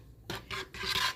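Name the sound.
immersion blender pulsing and mixing soap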